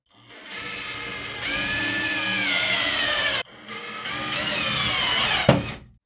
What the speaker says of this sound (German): kann jetzt nämlich hier außen und natürlich auch da außen die Holzlatte mit unserer Gipskartonplatte verschrauben